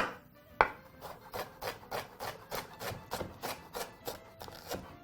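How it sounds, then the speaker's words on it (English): A knife chops quickly through a red onion on a board, about a dozen evenly spaced crisp strikes in a steady fast rhythm, close and fairly loud, with one sharper knock near the start. "we're going to begin by chopping up our red onion"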